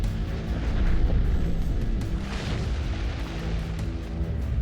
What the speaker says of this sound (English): Thousands of mammoth explosions rock our sun every year.